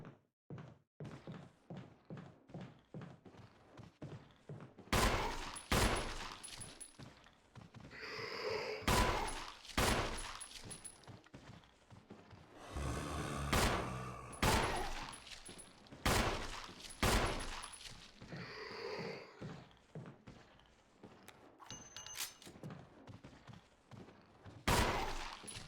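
Gunshots in the video game Resident Evil HD Remaster, sharp heavy blasts fired in scattered bursts, with quieter clicks and thuds between them and no talk.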